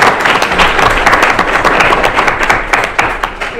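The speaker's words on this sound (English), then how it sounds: "So let's give them another round of applause." Audience applause at a Lawton Public Schools board of education meeting, a dense, steady wash of many hands clapping close by that fills the whole stretch without a break.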